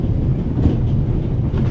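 A train in The Raven Remastered video game rolls along with a steady low rumble and faint rhythmic clatter of wheels, continuous and close, with no voices.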